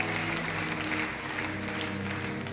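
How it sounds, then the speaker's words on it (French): A studio audience applauds on the French TV game show Money Drop, a steady, moderately quiet wash of clapping over a low sustained hum from the studio. "On vous laisse repartir sous les applaudissements par là."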